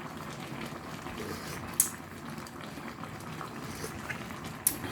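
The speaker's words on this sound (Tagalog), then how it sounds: "Uy, ayun na. Kumukulo na" A pot of mango-sour pinangat broth bubbles at a steady rolling boil, a dense hiss of simmering with a couple of faint sharp clicks.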